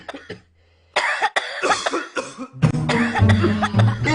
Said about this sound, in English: Are they still coughing?